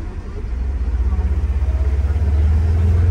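A 2023 Polaris Ranger 1000XP Northstar utility vehicle with about 100 miles on it pulls off, its engine a steady, close low rumble that builds slightly and holds, with a faint pulsing throb and no talk.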